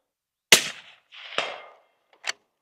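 A suppressed 7mm PRC rifle fires three times at a steel target 235 yards away. Each sharp report is quickly followed by a distant ringing clang, spaced over a couple of seconds with no talking.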